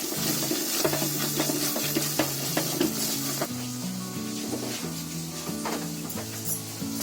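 Green paneer gravy sizzles in a pan on a full gas flame while a spoon stirs it with repeated scraping strokes, a continuous frying hiss under a faint tonal background.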